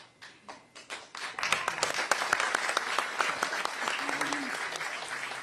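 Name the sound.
audience clapping at campaign event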